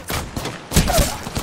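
Rapid gunfire from several weapons in the battle-royale video game Apex Legends, a dense burst of overlapping shots with a louder cluster near the end, loud and continuous with no talk over it.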